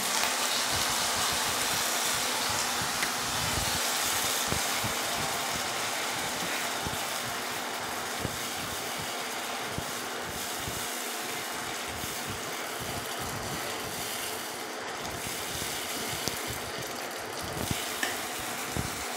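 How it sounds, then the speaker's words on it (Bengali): Tomato paste hits hot oil in a frying pan while chole is cooked, giving a steady, close sizzle and frying hiss with occasional stirring scrapes throughout, no voices. "টমেটো বাটাটাকে দিয়ে দিচ্ছি"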